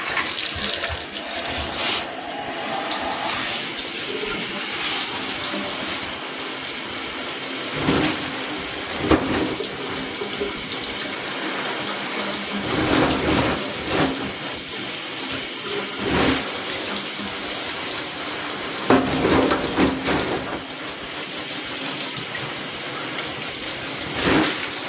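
Aquarium substrate rock being rinsed under a running tap: a steady, fairly loud rush of water into a sink, with gritty rattles and splashy bursts as the stones are stirred and shifted, no voices.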